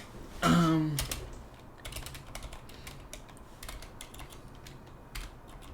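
Rapid clicking of computer keys being typed, preceded by a brief louder mechanical clunk, with scattered close keystrokes continuing at an irregular pace and no talking.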